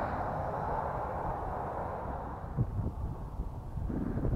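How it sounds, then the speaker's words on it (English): Outdoor wind buffeting a microphone along with road noise near Point of Rocks by Marfa, a continuous low rumbling roar with gusty bumps, fairly faint overall and with no voices. "Sorry about the wind and road noise"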